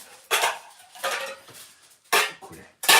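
Metal pieces of a camping cookware pot set clank and rattle as they are handled and nested together, in four separate close, bright clatters with short pauses between them.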